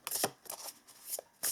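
Rose oracle cards being shuffled by hand, a close, papery riffling and flicking in several quick bursts with no voices over it.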